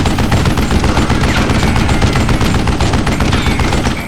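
A gun in a video game fires a dense, continuous burst, loud and rapid like a machine gun, with no pause across the stretch.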